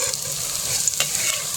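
Papaya koftas fry in hot oil for curry, giving a steady, close, continuous sizzle with faint crackles and no voices.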